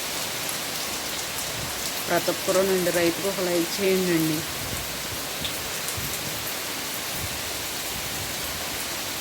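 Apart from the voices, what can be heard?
rain falling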